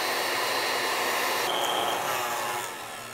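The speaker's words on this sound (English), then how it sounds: "if you're using a hand mixer, this takes a little longer, but I'm just gonna let this machine do its work." A stand mixer drones steadily at high speed as it whips egg whites for mint julep kisses, a loud continuous whir that shifts slightly in pitch midway and eases off near the end.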